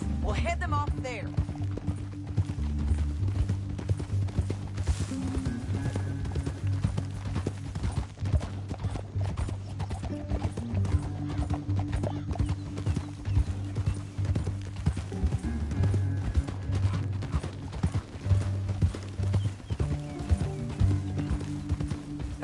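Horses clip-clop along at a steady gait through a canyon in a Western drama, the hoofbeats continuous under a bed of low music, with faint voices and a brief whinny.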